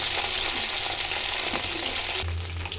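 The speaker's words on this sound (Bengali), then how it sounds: "এবার ঢ্যাঁড়সটাকে আমি দিয়ে দিলাম তেলের মধ্যে" Okra sizzles and fries steadily in hot mustard oil with nigella seeds, a dense continuous crackle with occasional stirring scrapes, close and fairly loud.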